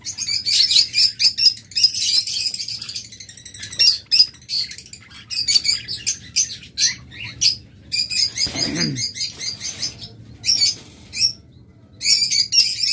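Several pet rainbow lorikeets chirp and squawk close by in busy, overlapping bursts with short pauses, and one harsher call stands out midway.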